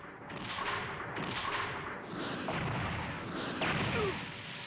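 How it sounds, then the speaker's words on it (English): Zaku bazooka fire and explosions in SD Gundam G Generation Genesis, a run of muffled overlapping booms and bursts rolling over a continuous rumbling bed, moderately loud with no speech. "We did get hit by that Zaku cannon, but it's all good. Or bazooka, I should say."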